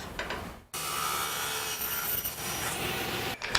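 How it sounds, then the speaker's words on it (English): A hand saw cuts a miter in wood, with quick rasping back-and-forth strokes, close and fairly loud, broken by a short pause near the start and another just before the end. "I'm going to cut one miter for each piece"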